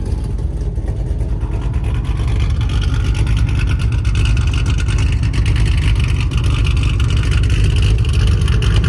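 A 2010 Ford Mustang GT V8 with an exhaust leak rumbles steadily and loudly up close, a deep continuous drone with slight revving swells and a raspy, leaky edge throughout.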